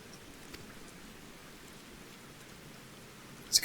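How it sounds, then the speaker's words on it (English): Soft steady rain in the video game Final Fantasy XIV, a faint even patter with a brief sharper tick at the very end. "It's kind of wet and rainy to me."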